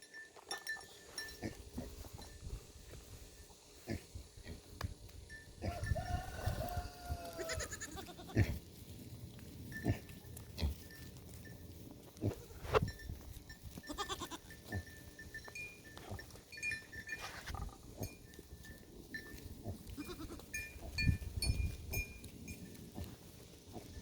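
Goats and pigs mill about nearby, with scattered goat bleats and faint pig grunting amid shuffling and rustling over a steady low background.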